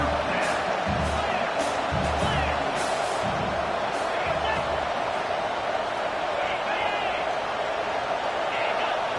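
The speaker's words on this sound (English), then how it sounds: "And with this place rocking, the crowd forces a false start." Loud roaring stadium crowd at a college football game, a thick continuous wall of cheering with thumping bursts early on and a commentator talking over it.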